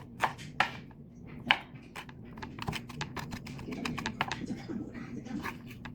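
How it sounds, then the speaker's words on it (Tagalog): Finely chopping garlic with a knife on a cutting board in a home kitchen, a quick irregular run of sharp close taps, a few louder strikes at the start, then steady rapid chopping. "at hiwain ng pinong-pino"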